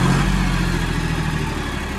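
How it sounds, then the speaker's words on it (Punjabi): A John Deere 5310 tractor in showroom condition idles close by with a loud, steady, even engine drone that holds level throughout, with no talk. "ਲਓ ਬਾਈ ਟਰੈਕਟਰ ਦੀ ਆਵਾਜ਼ ਵੀ ਕਰ ਲਓ ਚੈੱਕ"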